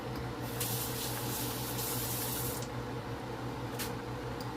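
Tap water runs steadily in a home kitchen while hands are rinsed during baked penne prep, a soft continuous hiss with brief louder splashes, alone without talk.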